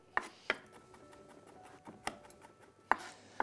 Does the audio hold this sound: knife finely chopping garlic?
yes